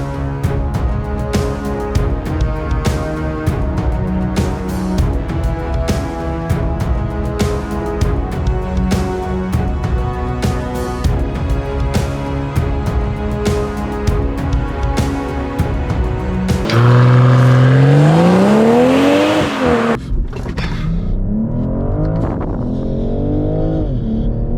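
A BMW with a ZF 8-speed gearbox launches hard under launch control, its loud engine note climbing steadily, breaking off at a gear change, then rising again close up.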